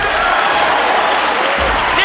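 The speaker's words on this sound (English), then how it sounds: "And Earl leading the applause. A great shot." Loud, steady applause from a pool hall crowd after a great shot in the 2002 World Pool Championship final, a dense, continuous wash of clapping throughout.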